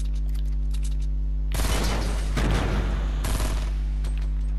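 Bursts of rapid gunfire in the Fortnite video game, two dense volleys about two seconds apart, loud over a steady game soundtrack with no talking.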